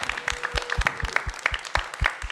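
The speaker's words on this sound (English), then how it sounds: "So one round of applause for all the competitors today." Applause for the competitors at the U.S. Memory Championship: a small group clapping in an irregular, moderately quiet patter, with distinct individual claps and heavier low thumps scattered through.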